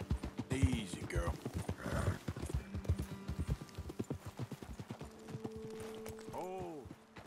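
Horse hooves clip-clop at a walk in Red Dead Redemption 2, steady close hoofbeats on a trail under quiet voices, with a horse snort and whinny toward the end.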